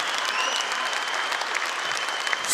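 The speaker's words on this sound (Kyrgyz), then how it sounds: "дүркүрөгөн кол чабуулар." Thunderous applause from a concert audience, a dense, steady wash of many hands clapping that carries evenly throughout, with a faint whistle and scattered voices in the crowd.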